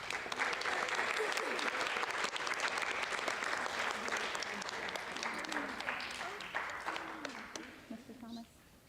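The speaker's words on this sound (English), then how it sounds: "Can we have a round of applause for our judges?" Audience at a school pageant applauds the judges: dense, moderately loud clapping that fades out toward the end as voices begin talking underneath.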